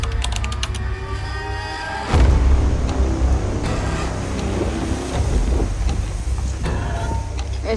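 Wind buffets the microphone in rough, rumbling gusts, loud and continuous, with no one speaking.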